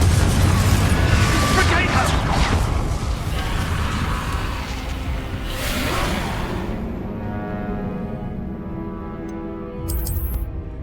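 Confringo blasting spell in Hogwarts Legacy, a loud, continuous roaring blast with bursts of crackling energy, swelling again midway before the noise drops to a lower hum and ends with a bright, short magical chime.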